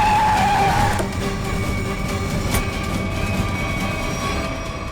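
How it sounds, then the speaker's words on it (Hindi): A car on a chase skids hard to a stop with a loud, high tyre squeal for about a second, followed by a sustained rumbling engine and road roar that continues close and loud to the end. "गाड़ी रोक रोक रोक रोक रोक।"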